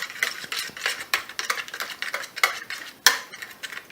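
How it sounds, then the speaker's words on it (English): Two brown eggs beaten in a bowl with a utensil for banana bread batter, giving a steady run of quick clicking, scraping strokes against the bowl, close and fairly loud with no talk. "next we're going to beat the eggs"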